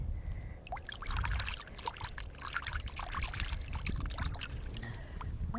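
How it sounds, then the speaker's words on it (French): A dirty mineral specimen taken from old granite is swished and rinsed in dirty water, giving a steady close sloshing and trickling with small splashes throughout. "Je sais pas si je le lave dans l'eau sale, si ça va l'aider à être moins sale."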